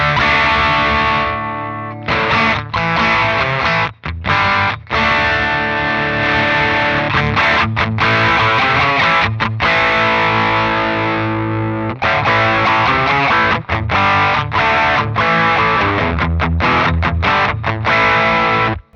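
An electric guitar played through an MXR Sugar Drive overdrive pedal, thick and distorted, with sustained chords and short gaps between phrases, loud and close.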